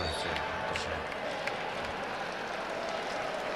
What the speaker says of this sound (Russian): Ну и аплодисменты